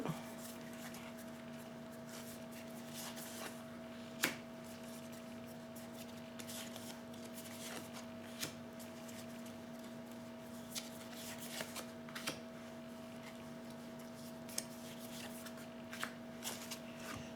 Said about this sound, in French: Alors ensuite, je vais tirer encore 4 cartes.